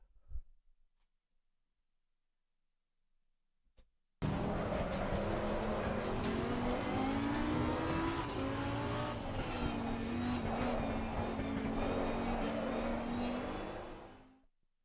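Race cars in the video game Assetto Corsa roar as an engine revs and climbs through gears, loud and continuous for about ten seconds after a near-silent start, fading out at the end.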